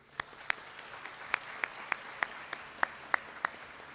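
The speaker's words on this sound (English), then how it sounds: "please join me in a round of applause for our donors" Sparse, evenly spaced applause for donors at a scholarship luncheon, ringing out in a quiet room, more like a few people clapping than a full crowd.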